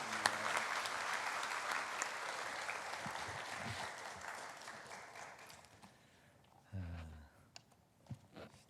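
A church congregation applauds to welcome a speaker at an elder installation service at Cheonan Daesung Church. Dense, steady clapping fills the room for several seconds, then thins out and fades as a voice begins speaking near the end.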